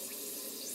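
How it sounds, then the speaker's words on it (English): Water trickles steadily out of the gland of an older model steam engine, a faint continuous hiss and dribble without voices. "There's quite a lot of water dribbling out of the gland, but that's about all."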